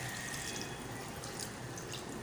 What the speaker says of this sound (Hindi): अब अपनी मर्ज़ी के मुताबिक आप इसमें पानी ऐड कर लीजिए